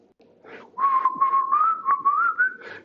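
A man whistles a jingle up close, a clear, slightly rising melody of several connected notes heard on its own.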